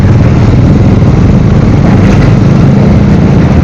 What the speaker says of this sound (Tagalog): Kasi mas malaki makina nito, single cylinder pa, ganyan talaga, no? That's the behavior.